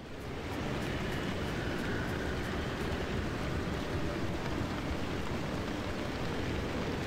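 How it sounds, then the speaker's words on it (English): Steady rain pours in the video game Pacific Drive, a constant broadband hiss that holds at an even level from start to finish. "And it's raining again."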